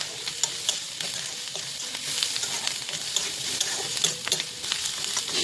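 Sliced onions with turmeric and salt fry in a pan with a steady, dense sizzle, broken by scraping and stirring taps throughout; close and continuous, with no voices.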